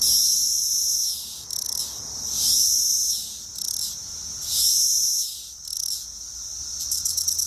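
A cicada's courtship song in woodland trees: high, buzzy insect calls that pulse and swell in repeated waves, with a faint rattling stutter near the end and no voices.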